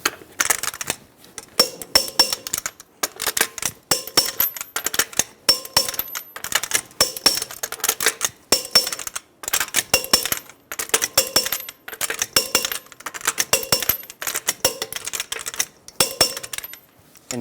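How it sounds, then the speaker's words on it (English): A torque wrench tightens the wheel lug nuts on a 2010-2014 Subaru Outback to 90 foot-pounds in a star pattern, giving sharp, repeated metallic clicks and ratcheting in close, evenly spaced bursts with short pauses between nuts. "Torque the wheels to 90 foot-pounds in a star pattern."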